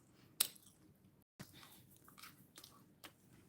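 Quiet crunching bites and chewing of crispy, slightly burnt toasted bread eaten with tomato egg stir-fry and cheese, several soft crunches spread through the clip, close but low.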